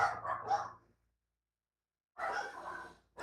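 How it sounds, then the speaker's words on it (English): Dogs barking at a home during a live stream, two bursts of loud, close barks separated by a quiet gap of about a second, with no talk over them. "My dogs are still barking."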